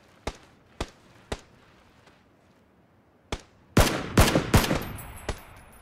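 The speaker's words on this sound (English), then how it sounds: "They're shooting at me now. I'm getting return fire from somewhere." Gunfire in a video game shootout: three sharp single shots spaced evenly, a pause, then a denser burst of loud cracking shots close by, with no talk.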